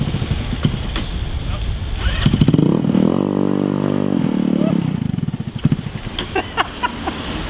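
A small engine on a homemade Metruck, a motor that had never been run before, idles roughly and revs briefly, loud and close. Clattering vibration runs throughout, and voices talk over it.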